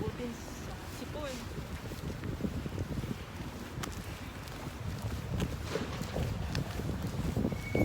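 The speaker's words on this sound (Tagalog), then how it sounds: "Masyadong mahangin po." Wind buffets and rumbles against the microphone continuously in Poznań's Old Market Square in spring, with scattered knocks and faint background noise.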